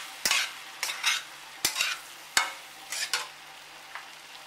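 Spoon scraping and stirring spices into a mixed vegetable sabzi frying in a pan, with about six distinct scrapes over a soft, steady sizzle; close and fairly quiet, no talking.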